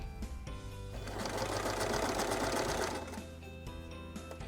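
Sewing machine stitching a small cloth doll diaper, running in a steady whirring burst for about two seconds with shorter start-stop runs before and after as the seam goes back and forth, close and alone.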